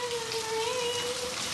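Steady rain falling outdoors makes a dense, even hiss throughout, with a faint sustained tone running beneath it.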